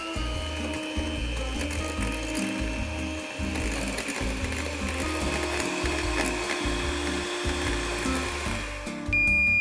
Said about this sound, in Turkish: Kıvamlı bir köpük haline gelene kadar çırpıyorum.